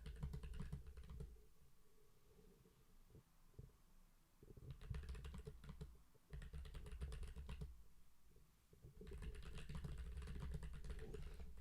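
Typing on a computer keyboard during a business English livestream, heard as bursts of soft clicking under a low steady hum, with pauses between runs of keystrokes.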